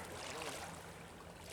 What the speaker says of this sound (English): There's a barge going down river.